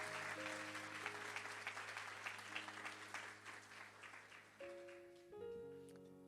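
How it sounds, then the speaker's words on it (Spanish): A church congregation claps for the Lord during a Spanish-language sermon, a dense round of applause fading out while sustained organ or keyboard chords ring underneath. "Alguien le da un aplauso al Señor fuerte."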